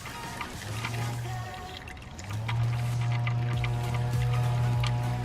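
Engine oil drains from the drain plug of a Toyota Corolla in a steady, continuous pour and trickle, a close liquid stream that holds throughout with no talk over it.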